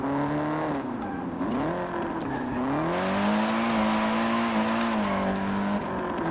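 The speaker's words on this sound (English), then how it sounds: "And it's got a lot of popcorn sound." A car in Forza Horizon 5 revs and drones steadily under acceleration, its engine pitch rising and falling, with faint crackle from the exhaust.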